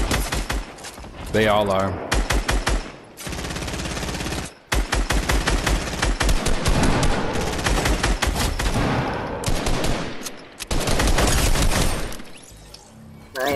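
Rapid bursts of automatic gunfire in the video game Fortnite, loud and close, coming in repeated volleys with short gaps, while a player talks over it.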